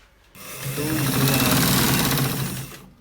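Sewing machine stitching a shirt collar, one continuous motor whir that starts abruptly, swells to a steady hum and cuts off, close up and alone.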